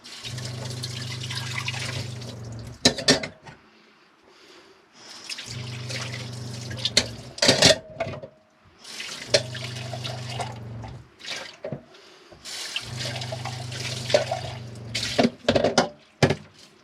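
A faucet runs in short bursts while dishes are rinsed at a campground, with the water switched on and off four times and dishes clattering between stretches of flow, all close up.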